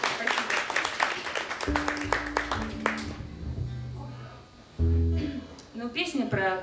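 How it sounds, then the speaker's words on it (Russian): A concert audience applauds with a dense patter of many hands for about three seconds. The clapping then fades as voices and low musical tones take over. "Можно тогда аплодисментами даже."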